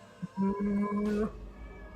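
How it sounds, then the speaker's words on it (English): A pet cat lets out a long drawn-out meow with a brief chirp before it, close and clear over a quiet room, with a short noisy burst near the end. "Yeah, that's my cat."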